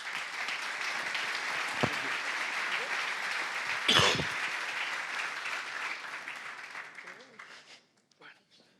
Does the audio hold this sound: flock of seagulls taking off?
no